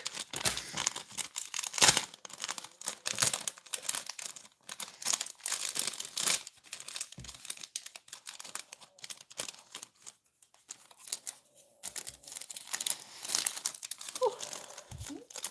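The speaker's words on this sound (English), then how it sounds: "So I have to like snip it off in a weird way." Plastic packaging crinkling as dollar store price tags are snipped off with scissors: close, irregular rustles and crackles with small sharp clicks and snips, moderately faint, alongside a few quiet stretches.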